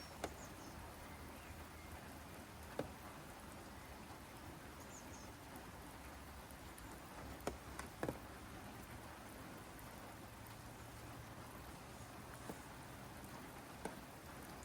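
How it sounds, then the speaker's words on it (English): Rain falls during a storm outdoors as a soft, steady patter, with a few louder drops or taps now and then and no voices. "Got another storm."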